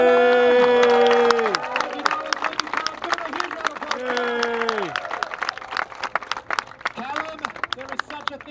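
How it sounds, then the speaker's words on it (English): A street-show crowd in Amsterdam claps and cheers for volunteers Nolan and another helper, a dense burst of applause that thins into scattered clapping, with a performer's voice speaking loudly over it. "a huge round of applause for Nolan and"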